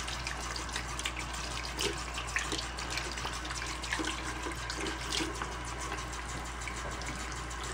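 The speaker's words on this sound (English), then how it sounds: "Rinse your hands off." Tap water runs in a steady, close gush into a sink while dish liquid is rinsed off hands, continuous throughout with no talking.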